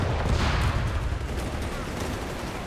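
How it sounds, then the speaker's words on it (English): Grenades going off in Company of Heroes 3 battle: a dense, continuous wash of explosions and combat rumble, loud and steady with no distinct separate blasts. "grenades being chucked"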